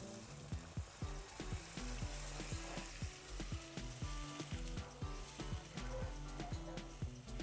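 Okra curry cooking in a pan as water is poured in, with loud continuous sizzling and bubbling crackle throughout, close and alone without talk.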